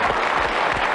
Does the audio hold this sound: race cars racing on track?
no